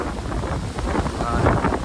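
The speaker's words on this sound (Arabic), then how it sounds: "هذا حرك شوية الريح" Wind gusting across a microphone at a marina, a steady rough rumble with faint water and boat sounds beneath, close and fairly loud throughout.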